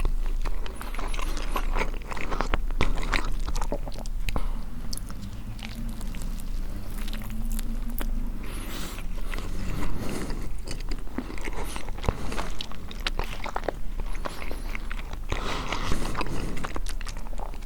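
Biting into and chewing an oversized XL tacos close to the mic, with wet crunchy mouth sounds and scraping of the wrapping repeating steadily throughout, no talking.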